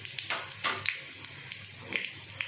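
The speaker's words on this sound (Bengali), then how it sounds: "এবার জিরে আর গোটা গরম মশলা ফোড়ন দিয়ে দিলাম" Cumin and whole garam masala sizzle in hot ghee and oil, crackling in scattered sharp pops and spits over a soft hiss, close and brief with no talk.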